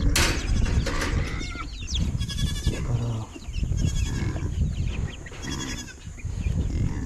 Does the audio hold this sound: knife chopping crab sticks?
no